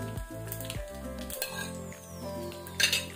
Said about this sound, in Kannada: ಮಸ್ಟರ್ಡ್ ಸೀಡ್ಸ್ ಹಾಕೋಣ. ಕ್ರ್ಯಾಕಲ್ ಆಗಲಿ, ಚಟಪಟ ಆಗಲಿ.